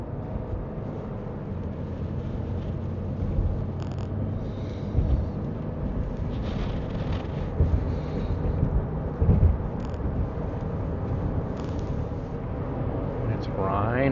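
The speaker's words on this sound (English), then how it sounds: "It's raining." Rain falls steadily during a Kansas City thunderstorm, making a dense, continuous hiss that runs throughout with low rumbling underneath and no voices.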